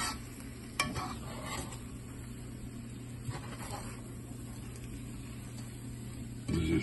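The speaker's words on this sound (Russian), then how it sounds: "Решил в Казани перемешать белый рис." White rice is stirred in a kazan for Uzbek plov, with a quiet background sizzle and a few scraping stir sounds and clinks spread through, close and fairly faint.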